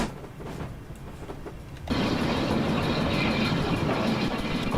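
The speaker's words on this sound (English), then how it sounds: "There's another train. Oh wow, that one really was steaming there." A steam train passes in Train Simulator on a 1950s Riviera Line route, a faint rumble swelling abruptly into a loud, steady rushing roar of the passing locomotive and carriages.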